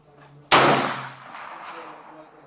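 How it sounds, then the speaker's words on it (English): A single loud muzzleloader rifle shot fired at a target 100 yards away outdoors during early Iowa whitetail season, a sharp crack followed by a long rolling echo that fades slowly. "we're gonna take hopefully a few more shots and we'll be all good to go"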